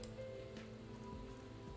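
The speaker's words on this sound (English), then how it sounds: "I hear that rain." Steady rain falling in the video game Persona 4 Arena, a continuous even patter at moderate level throughout with a faint background tone, no voices.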